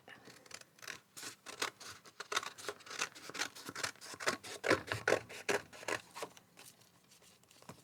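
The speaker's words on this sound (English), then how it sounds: "let me do that quickly with a pair of scissors" Paper being cut with a pair of scissors, a steady run of close, crisp snips in quick rhythm that thin out toward the end, with no talk.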